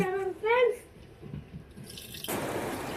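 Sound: water poured into a pot of jaggery

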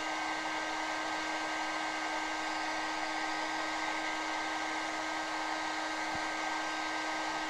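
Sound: heat gun heating and melting glue

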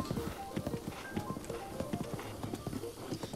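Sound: ghost horse hooves clip-clopping in a video game

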